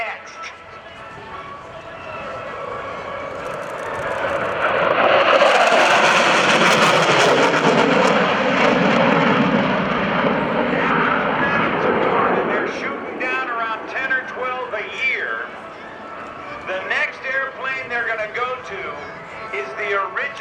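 An F-16A Fighting Falcon fighter jet roars overhead at an airshow, building to a loud, sustained rumble before fading, with people talking over the tail end.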